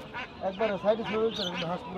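Several ducks quack in quick, overlapping bursts nearby at a village market in Fatullah, Narayanganj, with human voices mixed in.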